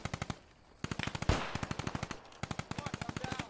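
Small arms gunfire in a video game, rapid bursts of sharp, evenly spaced shots in several strings with a louder single report in the middle, fairly close and clear.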